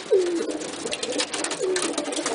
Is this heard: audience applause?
no